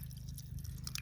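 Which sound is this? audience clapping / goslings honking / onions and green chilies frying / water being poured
water being poured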